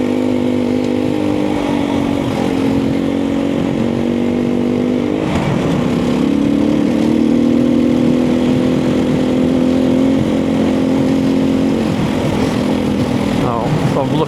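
Motorbikes on a moorland track at Redmire Moor give a steady droning engine note that rises and shifts as they draw nearer, loud throughout, with a voice now and then.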